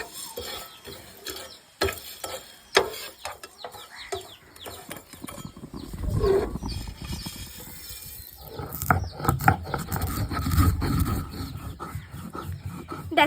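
Whole peppercorns, coriander and cumin are ground on a stone slab with a stone, giving irregular scraping, crunching and rolling strokes, close and fairly quiet, with occasional sharper clicks.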